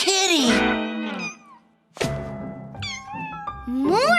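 Cartoon kittens in a children's animated show meow loudly in several long, rising and falling cries, with a short quiet gap in the middle before more meows pile in.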